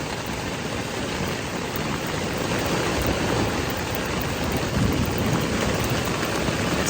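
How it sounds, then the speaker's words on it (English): Heavy thunderstorm rain pelts a hiking tent on the Appalachian Trail, a dense, loud, continuous roar of drops with low rumbling swells underneath and no voices. "it's actually pelting the rain through the tent"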